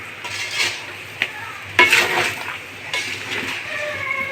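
Mango pickle with salt and spices is stirred in a pan, a large batch of about four kilograms of mango, giving repeated close scraping sweeps of a utensil over a soft sizzle, with no talking.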